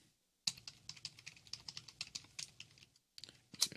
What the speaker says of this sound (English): Just gonna type in my password.